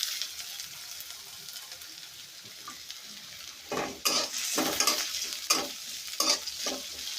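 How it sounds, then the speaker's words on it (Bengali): Onions and green chillies fry and sizzle in a pan for potatoes with egg, a steady crackle under repeated sharp scraping stirs that grow louder and more frequent in the second half. "এখন পেঁয়াজ কাঁচামরিচগুলো দিয়ে দিই"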